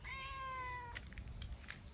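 A kitten gives one clear, close meow of about a second, followed by quiet indoor background.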